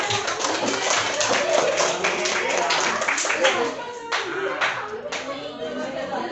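Audience clapping and applause in a classroom, a sustained burst of many hands lasting several seconds, dense at first and thinning toward the end, with a teacher's voice speaking over it.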